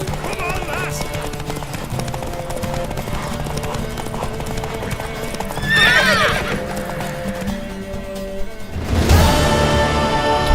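A horse in The Witcher 3: Wild Hunt clip-clops at a gallop under a steady game score, with a loud whinny partway through and another burst of neighing and hooves near the end.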